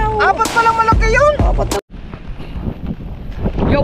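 Strong wind blows on a rainy seashore at a river mouth after flooding, roaring and buffeting the microphone in loud continuous gusts, with someone talking over the first half.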